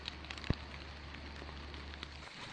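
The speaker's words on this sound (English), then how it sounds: "Still raining." Rain falls softly on a soggy hiking trail in the Smoky Mountains, a faint steady patter with one sharp close drip or tap near the start.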